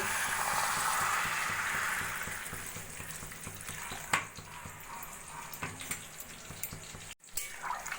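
Water poured from a container into a pan of potato and pointed gourd curry (aloo potol dalna), a steady broadband rush for the first two seconds that fades into quieter kitchen clatter and faint clinks.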